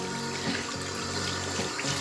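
A tap runs steadily into a sink during handwashing, a constant close rush of water with faint splashing changes and no talking.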